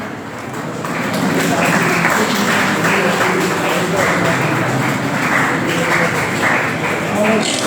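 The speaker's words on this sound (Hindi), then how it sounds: "तालियों के साथ में स्वागत कीजिएगा, अभिनंदन कीजिएगा" Seminar audience applauding in a hall to welcome a guest: dense, steady clapping swells in after a second and continues at an even level throughout, with no break.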